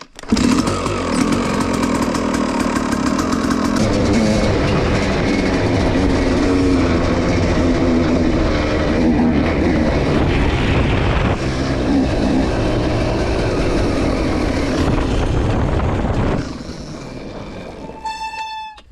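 A KTM SX 250 two-stroke dirt bike warming up after repairs, a loud, raspy, continuous engine drone heard close for most of the run, then cutting out near the end and leaving brief ringing metallic tones.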